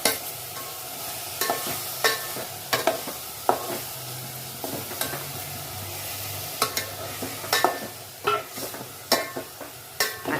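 Pomfret fish frying in hot oil and being stirred, with a steady sizzle broken by repeated sharp scraping strokes of a spatula against the pan, close and moderately loud.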